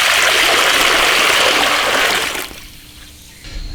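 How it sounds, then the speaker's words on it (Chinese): Water pours steadily into a cooking pot or wok for boiling pork trotters, a close, loud gushing stream that stops after a couple of seconds, leaving quieter background sounds. "加水。"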